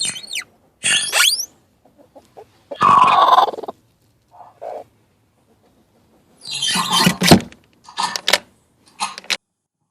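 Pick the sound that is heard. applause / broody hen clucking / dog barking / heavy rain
broody hen clucking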